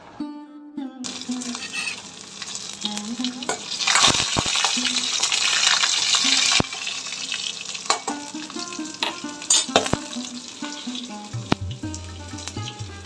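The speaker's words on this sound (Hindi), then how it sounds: "तो ये लहसुन और इसको छौंक में दूंगी, गरम हो जाए तेल।" Oil sizzles and crackles steadily as garlic fries in a pan for tempering dal, with occasional clinks and stirring scrapes, a brief splash of water, and a low rumble near the end.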